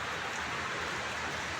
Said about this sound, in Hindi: 3 दिन से बारिश लगातार हो रही है भाई साहब